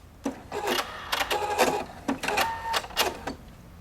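A Husqvarna Viking Opal 690Q sewing machine stitches a single pattern, heard as a series of short, loud whirring bursts separated by brief pauses, close up and without voices.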